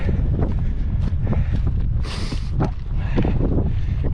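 Strong wind buffeting a microphone on a fell walk around Coniston Old Man in the Lake District, a loud continuous roar with gusting swells and rustling, with no speech.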